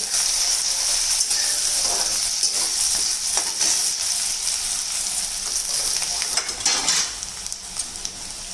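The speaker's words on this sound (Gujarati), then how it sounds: "હવે જે આપણે ડુંગળી કટ કરી છે એ એડ કરીશું" Chopped onions fry with asafoetida in a pan for Maharashtrian pithla, a steady close sizzle throughout with a few stirring scrapes and light clinks.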